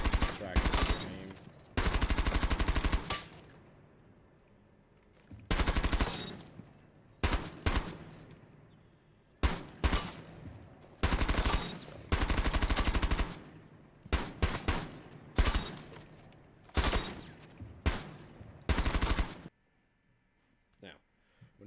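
Rapid bursts of gunfire from an aim-practice training mode in a PC first-person shooter, loud repeated volleys separated by short pauses, running for about twenty seconds with no talk.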